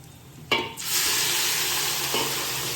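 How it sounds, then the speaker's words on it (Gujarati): A loud, steady sizzle of cinnamon, dried chillies, asafoetida, ginger-chilli paste and garlic frying in a hot pan, starting with a sharp burst and holding strong, with a brief scrape partway through. "પછી લસણ, આદુ અને મરચુંને સરસ સાતડી લેવાના"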